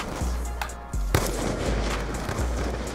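Gunshots in the video game Black Ops 2 crack out in several sharp, loud reports spaced about a second apart, close and punchy over a steady low game rumble.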